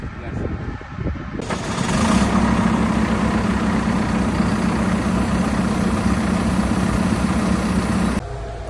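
A John Deere 6130M tractor diesel engine starts and settles into a steady, loud idle with a constant low drone, ending abruptly near the close.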